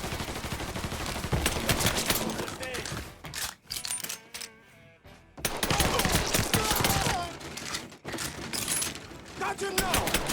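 A Mafia 3 shootout rattles with dense, rapid gunfire and loud cracking shots, broken by a brief lull mid-clip before the volleys resume, with game voices shouting over the chaos.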